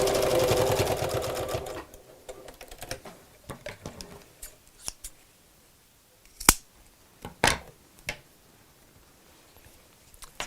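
Sewing machine stitching across a small box bag, a brief burst of rapid mechanical whirring, followed by quiet clicks and handling taps of fabric and tools.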